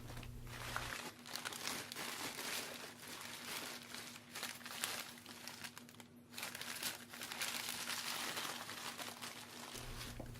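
Paper crinkling and rustling as dahlia bulbs are wrapped in sheets of paper for winter storage, a steady close rummaging texture lasting throughout with a low hum underneath and no talking.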